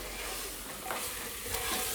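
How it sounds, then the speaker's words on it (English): Lamb and masalas frying in a pan over a medium flame, with a steady dense sizzle and the scrape and rattle of stirring close by. "the meat and the masalas has been frying for the last 15 minutes on a medium flame"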